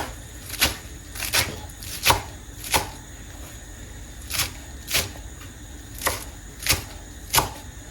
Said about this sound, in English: We'll chop our parsley.